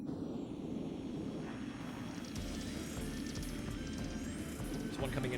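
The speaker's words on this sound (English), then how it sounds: "Wait, who is flying those planes?" Planes in the video game Armored Core 2 roar overhead as a low, continuous aircraft engine drone with rising whines and mechanical game effects layered on top, fairly steady throughout.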